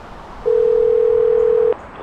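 A steady telephone dial tone sounds for just over a second, clear and continuous, on a call to the Mexican consulate, with faint room noise before and after.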